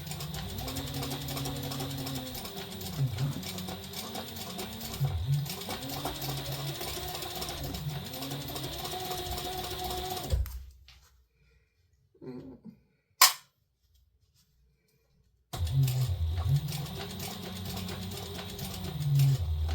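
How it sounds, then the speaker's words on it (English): A sewing machine runs basting stitches across a fabric bag in long steady bursts, pausing for a few seconds of near silence with a brief click before the motor resumes its rhythmic whir. "Take your remainder, we're going to baste across here."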